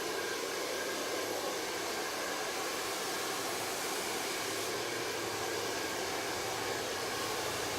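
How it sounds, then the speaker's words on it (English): Hair dryer blowing steadily while hair is dried with a TK2 round brush, a continuous close broadband whoosh with no breaks or talk. "I'm going to begin working with our TK2 round brush to help dry that hair"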